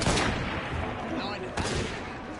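Gunfire in the Assassin's Creed: Syndicate video game: two loud, sharp bursts of shots, one at the start and another partway through, over a noisy game mix with voices.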